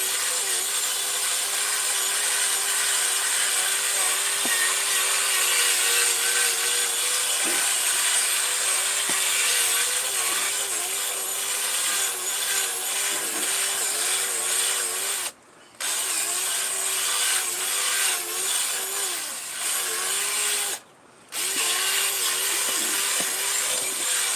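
A steady, loud motor whine from a power drill running an auger to mix soil in a greenhouse, cutting out briefly twice, with faint churning underneath.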